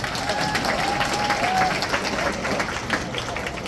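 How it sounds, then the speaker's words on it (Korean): An audience applauds steadily at a boxing title bout for the WBO Asia Pacific belt, a dense, sustained wash of clapping with crowd murmur and a faint tonal whine underneath. "큰 박수 부탁드리겠습니다"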